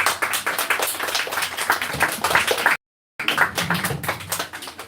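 A church congregation at a Bible school session applauds, a continuous crowd clapping of many hands that breaks off briefly and then resumes, fairly loud and close.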